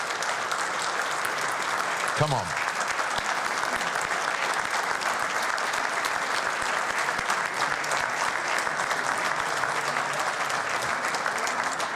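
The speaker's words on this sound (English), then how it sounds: "I'd just like us all to stand and give a big round of applause" Sustained, dense applause fills a horse racing conference hall in Madrid, loud and steady throughout, with a brief voice calling out over it near the start.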